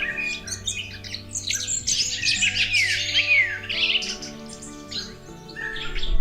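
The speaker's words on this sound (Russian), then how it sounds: "вернувшиеся с юга птицы создавали своим пением неповторимую атмосферу" Spring birds sing in a forest around a woodland pool, several chirping and trilling calls overlapping in a lively chorus, fairly close, with a faint low hum underneath and no speech.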